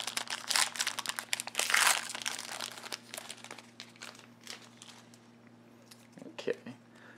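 A foil wrapper on a Photon trading card pack crinkles and crackles in bursts while it is worked open by hand instead of torn at the side. The noise is busiest early, then thins to sparse rustles, with faint talk near the end.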